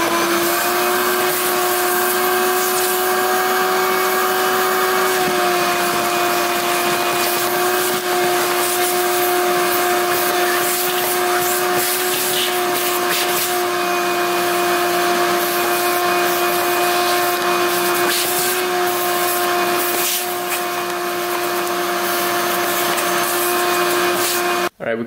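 A vacuum cleaner runs continuously while clearing debris out of a neglected ATV being readied for plowing, producing a loud, steady motor drone and rushing suction noise for about twenty-five seconds until it cuts off at the end.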